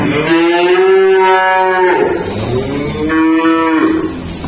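Cattle and calves at a livestock dealer's yard lowing in two long, loud moos one after the other, close by and with no voices over them.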